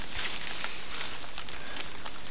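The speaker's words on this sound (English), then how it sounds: "it's starting to rain bad now" Steady rain pattering outdoors beside an old Luxaire high-efficiency heat pump, a dense broadband hiss of drops that holds evenly throughout without speech.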